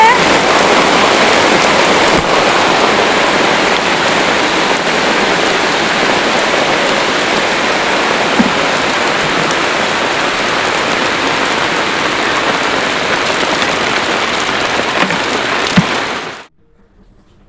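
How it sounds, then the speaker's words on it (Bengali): Heavy rain pours down in a loud, unbroken hiss for several seconds, then cuts off abruptly near the end. "পুরো বৃষ্টি নেমে পড়েছে।"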